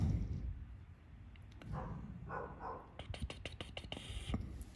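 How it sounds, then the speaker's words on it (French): A young dog barks in a series of short, sharp, fairly faint barks, bunching into a rapid burst toward the end, heard alone in a quiet room. "Ça continue d'aboyer, vous inquiétez pas, c'est un nouveau le temps qu'il se fasse."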